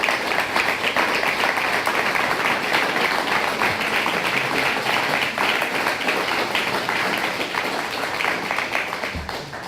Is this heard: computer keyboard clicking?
no